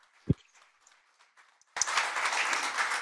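Audience applause welcomes the first speaker at a North Korea human rights forum. After a single knock and near silence, clapping from many hands starts abruptly and continues steadily to the end.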